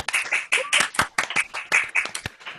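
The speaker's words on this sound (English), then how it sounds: "Let's give a round of applause to Jane and Bree." A small audience at a tech talk on TypeScript claps, giving sparse, close individual handclaps in an irregular burst rather than a dense roar.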